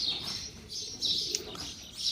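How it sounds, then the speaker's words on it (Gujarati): A pigeon that has come to drink water calls in a soft, repeated series of coos and chirps, fairly faint and close, with no talking. "જો કબૂતર આવ્યો પાણી પીવા"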